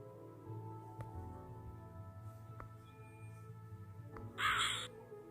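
A crow in the puzzle game Cube Escape: Theatre gives a single sharp caw near the end, heard over a quiet, humming game ambience with faint ticks.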